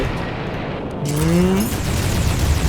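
A dragon-fruit explosion skill blasts in the Roblox game Blox Fruits, a dense booming rumble with a brief rising tonal swoop midway, loud and continuous across the short span.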